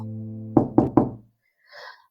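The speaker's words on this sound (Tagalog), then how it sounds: "nang biglang may kumatok" Three firm knocks on a door land in a quick, even sequence after a sustained low tone fades out, followed by a faint, distant sound.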